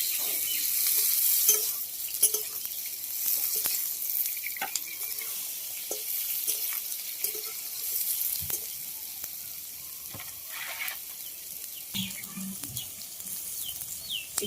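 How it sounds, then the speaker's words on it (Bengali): Jackfruit pieces frying in hot oil left over from browned potatoes, a steady soft sizzle running throughout with occasional stirring clicks and scrapes in the pan. "ওই তেলে আমি এঁচড়গুলোকে ভেজে নেব"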